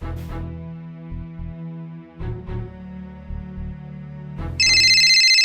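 A mobile phone ringtone plays a melodic tune in repeating phrases, loud and close, ending in a bright, sustained higher ring.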